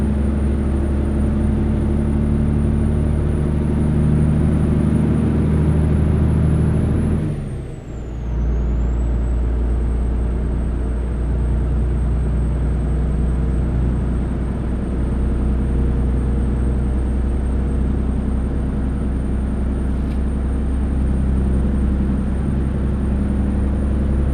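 A heavy video game truck's stock engine idles and rumbles steadily, loud and close, with a brief hiss and dip partway through, like an air brake release.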